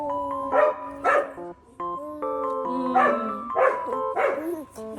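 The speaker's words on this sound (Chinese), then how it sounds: "狗狗。" A dog at a family home in Taiwan barks and whines in short, tonal bursts, several yelps spaced unevenly over a few seconds, fairly close.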